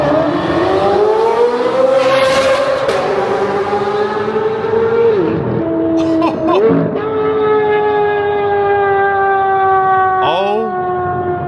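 A straight-piped Corvette C8 Z06 exhaust roars loudly and continuously inside an underpass, its dense harmonic drone holding steady with sharp pitch dips between shifts and a fresh climb near the end.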